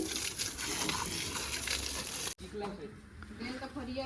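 Pressurized water sprays hard over a threshing machine being washed down, a loud steady gushing hiss that cuts off abruptly and then returns more softly, with voices in the background.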